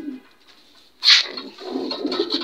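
Pigeons coo at close range: a faint murmur, then a sharp louder call or flutter, followed by low rolling coos that carry on to the end.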